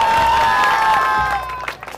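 A studio audience on a Marathi reality game show claps loudly and steadily, then the applause thins out and fades near the end.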